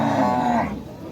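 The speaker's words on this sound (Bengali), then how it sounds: "বিভিন্ন জাতের গাই এখানে আছে।" Cow lowing at a busy cattle market where various breeds are sold, one close, loud moo that fades over about a second.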